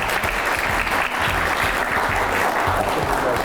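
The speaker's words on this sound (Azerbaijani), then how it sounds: "Özünüzü bir gür alqışlayın dostlar" Audience applause, a dense, steady roar of many hands clapping loudly and continuously, with a little crowd noise mixed in.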